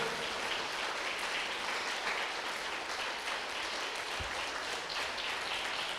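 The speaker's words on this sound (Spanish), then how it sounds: "quisiera, por favor, que le diéramos un aplauso fuerte a nuestros maestros" A church congregation gives its teachers a sustained round of applause, a dense and steady roar of many hands clapping heard from a little distance, with no talking over it.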